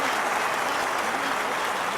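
A crowd applauds a weightlifting attempt at the London 2012 Olympics, steady dense clapping that fills the whole stretch at an even, fairly loud level with no voices standing out.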